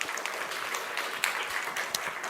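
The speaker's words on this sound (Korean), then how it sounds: "우리 박수 한번 쳐주세요." A church congregation claps together during a Sunday sermon, a brief burst of dense, even applause heard from within the sanctuary, steady and moderately loud.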